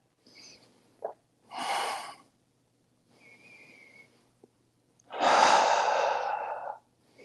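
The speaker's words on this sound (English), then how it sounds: "Breathe deeply." Deep breathing during a yoga alignment flow: a long, airy inhale followed by a longer, fuller exhale, close and fairly soft, with a few quieter breaths and small mouth sounds around them and no talking.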